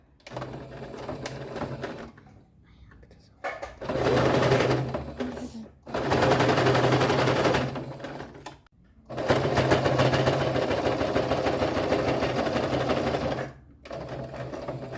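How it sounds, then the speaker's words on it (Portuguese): Sewing machine stitching along the fold of bias binding on a clear plastic pencil case, several close rapid bursts of mechanical clatter separated by short pauses, with no talking. "eu passo a costura bem aqui nessa dobra do viés"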